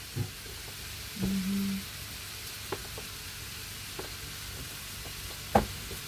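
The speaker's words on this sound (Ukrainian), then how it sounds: "Так, сковорідочка скворчить." A frying pan of pork belly sizzles softly and steadily, with a few brief clicks and clatters of utensils scattered through.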